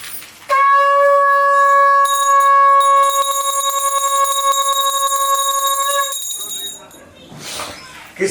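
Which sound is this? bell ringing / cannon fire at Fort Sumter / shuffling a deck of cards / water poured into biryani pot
bell ringing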